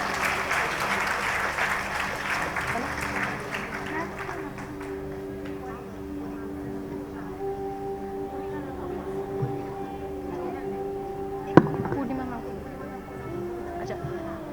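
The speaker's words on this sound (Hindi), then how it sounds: "सो मैम के लिए जोरदार तालियां।" Audience applause rings out at a school Independence Day cultural programme in a college hall in Karol Bagh. Loud, dense clapping opens the moment, then thins and fades over several seconds while a steady tonal hum and some voices continue.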